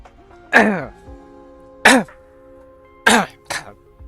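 Someone coughs hard four times, in uneven bursts, the last two close together, with a faint steady hum behind.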